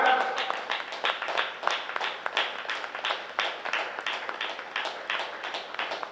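An audience claps loudly and steadily at a Pyramid Party of India success meet, honouring the masters with a dense run of hand claps that continues without a break.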